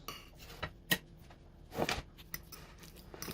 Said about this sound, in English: now we're going to take our fork and we're just going to mash it up